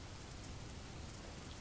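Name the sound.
storm and rain sound effect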